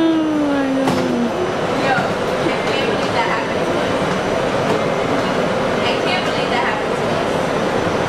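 A Chicago subway train at O'Hare station rumbles steadily with a brief wheel squeal at the start, continuous rail noise throughout, loud and close.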